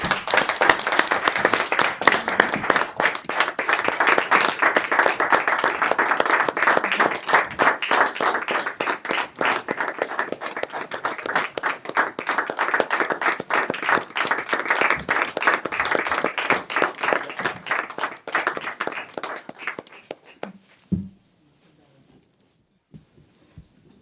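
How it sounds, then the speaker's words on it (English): Applause from attendees at a school committee meeting, a long run of sharp individual claps blending into steady clapping that thins and stops abruptly, leaving near silence. "So if we could have a round of applause for Emily."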